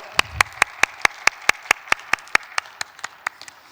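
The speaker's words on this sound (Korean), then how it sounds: "하나님께 영광의 박수 올리겠습니다" During a Sunday young adults' church service, a single pair of hands claps close by in a steady, even rhythm of about fifteen sharp claps that slow and weaken near the end.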